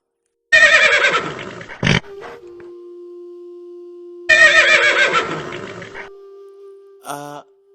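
Two loud, shrill horse whinnies, each trailing off into a sustained tone, followed by a short bright chime at the end.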